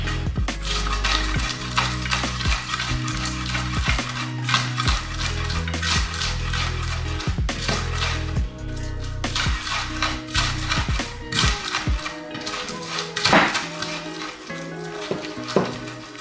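Scotch bonnet pepper, garlic and onion being ground by hand for a Ghanaian red oil, a steady run of close scraping, knocking and crushing strikes with sharp clicks, continuing throughout with no talk.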